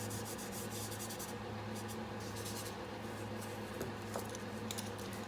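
A chamois being rubbed over a pencil drawing of an eye, giving a soft, steady papery scrubbing texture that runs continuously at close range with no talking.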